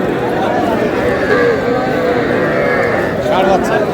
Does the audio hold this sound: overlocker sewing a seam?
no